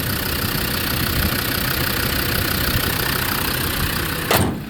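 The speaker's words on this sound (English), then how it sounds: "This just sounds like a newer generation diesel" A Land Rover Defender classic with the TD5 five-cylinder diesel engine idles nearby, a loud, steady, even rumble that holds throughout, with a brief bump near the end and no talking.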